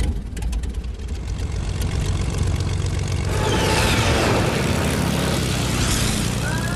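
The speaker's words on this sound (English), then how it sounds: "that plane scared the shit out of me" A propeller airplane engine in Fortnite roars overhead, swelling from a low rumble into a loud, broad drone that sweeps past in the second half.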